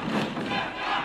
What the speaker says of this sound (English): And you hear the crowd rallying on for Kid Bandit